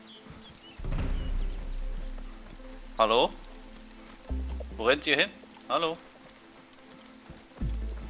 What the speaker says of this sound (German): Der Regen ist so laut, ich verstehe sie nicht.